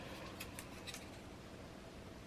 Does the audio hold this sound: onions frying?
no